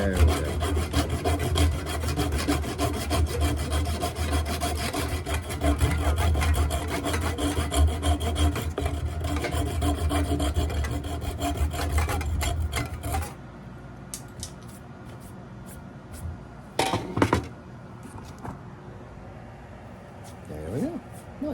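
Rough, rhythmic rasping of a file or abrasive rubbing on an old hatchet head during restoration, loud and continuous at close range, then stopping into near quiet with a few scattered knocks and handling noises.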